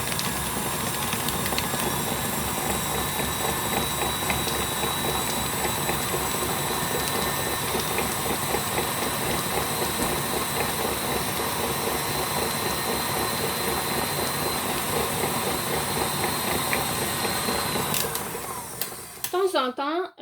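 An electric mixer whips American buttercream with a steady, loud mechanical whir and rattle that runs continuously for about eighteen seconds, then cuts off near the end with a few brief clatters and a short stop.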